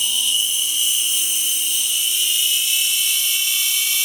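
A micro motor rotary tool used for working fire agate spins steadily at around 3,000 to 4,000 RPM, giving a continuous high whine with a faint tone that slowly rises, close and alone with no voices.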